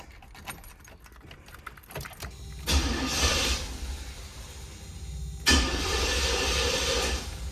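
An old Chevy box car cold-starting: starter cranking catches twice into a loud, rough engine roar that surges and settles, with clicks and rattles before it and no talking.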